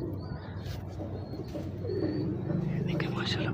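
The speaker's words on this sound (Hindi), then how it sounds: "ये भी गोल्डन कबूतर है सलारा" A golden breeder pigeon coos softly at close range in Lahore, low repeated throaty coos under someone talking.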